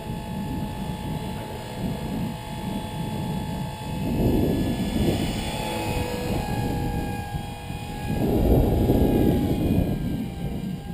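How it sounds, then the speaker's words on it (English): A small Blade 300X radio-controlled helicopter whines steadily nearby, its rotor pitch shifting as gusts of 10-20 mph buffet it, with wind noise rumbling underneath. "You can tell the helicopter is getting blown all over the place."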